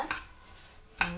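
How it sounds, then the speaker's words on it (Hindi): Puffed rice is stirred in a pan with jaggery for ladoo, two short clinks of a spoon against the pan about a second apart, close and without speech. "इसमें ये मैं सारे पफ डाल दूंगी और इनको चलाते रहना है लगातार"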